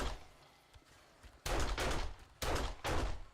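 Gunfire in the 7 Days to Die video game, shooting cheaper ammo at feral zombies: two quick bursts of rapid shots after a quiet stretch of faint game ambience.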